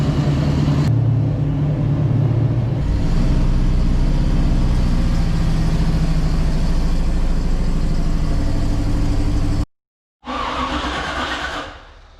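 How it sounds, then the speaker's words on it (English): Car engine running steadily and loud for most of the stretch while the car is moved through snow, with a brief cutout near the end before the rumble resumes. "Sorry, David, we had to move your car in the snow for a minute."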